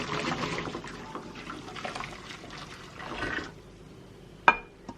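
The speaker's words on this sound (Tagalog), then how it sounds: "itapon natin yung tubig" Water tipped out of a new cooking pot, a splashing pour at moderate level that comes in uneven gushes, then fades, ending with a sharp clink of the cookware.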